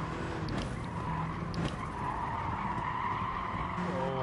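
Race car tires squealing and skidding hard at the grip limit in the racing game GT Sport, a steady continuous screech with engine noise running throughout the whole stretch.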